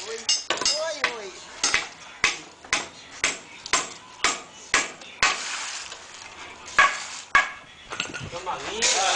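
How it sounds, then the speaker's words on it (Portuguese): A hammer striking a nail on a temple construction site, sharp ringing blows landing at a steady pace about twice a second, with voices faintly mixed in. "O Zé tá batendo no prego, em vez de ele empurrar o prego tá empurrando ele."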